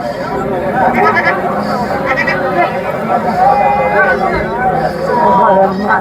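Goats bleat intermittently amid a busy crowd's murmur and chatter at a cattle market in Hazratpur, Bangladesh, several animals calling over the steady babble of a noisy outdoor market.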